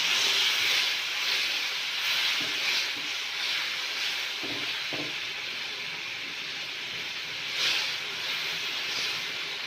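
Steady hiss of sugar syrup being stirred into cooking semolina for sooji barfi, a continuous bubbling sizzle with occasional faint utensil scrapes and no talk.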